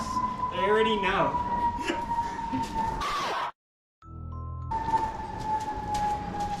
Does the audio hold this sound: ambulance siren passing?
yes